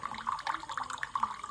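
Liquid streams from a homemade automatic peg measure dispenser into a glass, a steady thin trickling pour with faint splashy variation, close and fairly quiet, with no talk.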